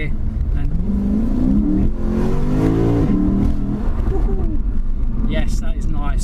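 2017 Lexus RC F engine revving after a downshift, a loud steady roar with a rising then falling pitch sweep, heard from inside the cabin under a few spoken words.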